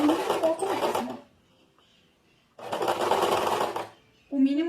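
A sewing machine stitches a seam close to the edge of a short-sleeved shirt, two loud rapid runs of motor whir and needle clatter separated by a pause, and a voice begins speaking at the end.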